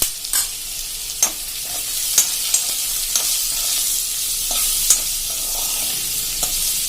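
Turmeric stirred through hot oil over a low flame for a bottle gourd sambharo gives a steady bright sizzle, broken by repeated light scraping strokes of a spoon against the pan, close and fairly loud.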